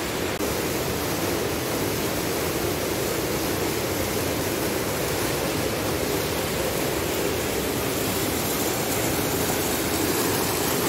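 A small waterfall-like water feature at a market pours continuously, a steady broadband rush of falling water heard close and alone without a break.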